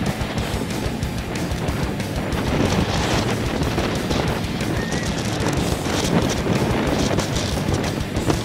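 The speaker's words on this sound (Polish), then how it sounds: "wiatr wieje." Steady, loud wind roars through the darkness along an ultramarathon course in the Bieszczady mountains, a dense unbroken rush with slight swells and no voices.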